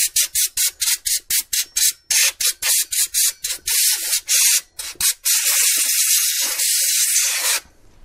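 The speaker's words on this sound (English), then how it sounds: "So what you want to do is hold the fan and spray." Rapid bursts of compressed air spray in short pulses onto a held computer fan, then a longer continuous blast that cuts off abruptly near the end.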